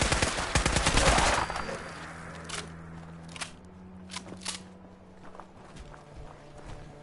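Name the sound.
gunfire from character shooting in Fallout 4 video game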